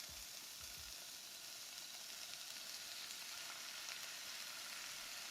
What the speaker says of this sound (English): We love to hear that sizzle.